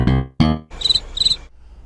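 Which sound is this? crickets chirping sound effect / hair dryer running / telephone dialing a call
crickets chirping sound effect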